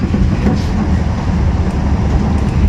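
Italian local air-conditioned train in motion, a steady loud low rumble of wheels and carriage noise inside an empty car, with no talking.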